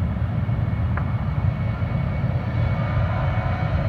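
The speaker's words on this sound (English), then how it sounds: "JetBlue going to Florida, Fort Lauderdale," A JetBlue airliner bound for Fort Lauderdale takes off at Austin-Bergstrom airport, heard as a steady, heavy low engine roar that holds at constant strength throughout, with no talk over it.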